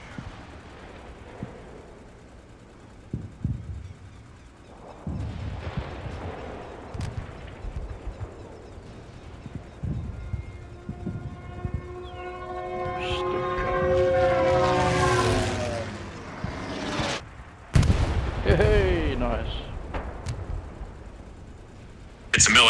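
Precision strike on a tank in Hell Let Loose: aircraft engines drone and swell overhead, then heavy explosions burst and rumble, with someone talking over parts of the build-up.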